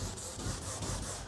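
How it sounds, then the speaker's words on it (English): Someone scuffs a kayak deck with a Scotch-Brite pad, a short, faint rhythmic rubbing of several quick strokes. "I'm going to take Scotch-Brite here and then go over it with the Scotch-Brite"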